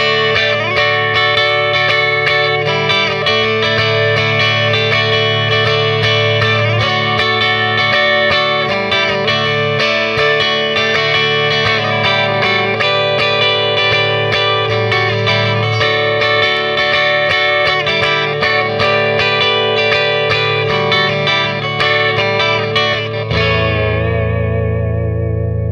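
A Jazzmaster copy electric guitar fitted with replacement pickups plays on its bridge pickup through an amp with effects, loud sustained chords and ringing notes with a bright, shimmering, jangly tone, ending on a held chord.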